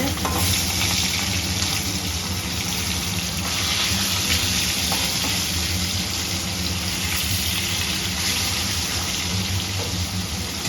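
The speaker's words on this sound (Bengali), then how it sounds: "মাছটা ভেজে নেব" Fish sizzling and being stirred in hot oil in a wok while making katla kalia, a dense, steady frying hiss with occasional scraping stirs, close and constant throughout.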